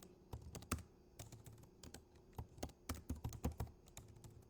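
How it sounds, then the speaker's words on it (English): Typing on a computer keyboard, irregular bursts of quiet close key clicks with short pauses between words, soft and without speech. "Let me type in my good morning."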